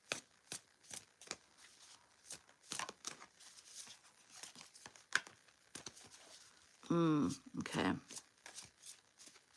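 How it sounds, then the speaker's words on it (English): A deck of cards is shuffled in a series of short crisp riffles and snaps, close by, with a person speaking briefly near the end. "I'm kind of shuffling and cards are coming out."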